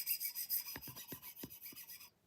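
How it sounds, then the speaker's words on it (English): Scratching on a DLC-coated surface, a short series of about five dry rasping strokes with a bright hiss running throughout, close and fairly quiet, with no talking. "So that's all the scratching on the DLC."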